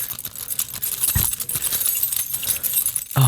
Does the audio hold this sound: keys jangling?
yes